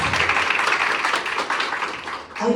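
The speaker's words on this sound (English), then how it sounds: "welcome him once again with a huge round of applause" Teachers at a school workshop give a steady round of applause lasting a couple of seconds, a close, continuous patter of many hands that fades slightly toward the end.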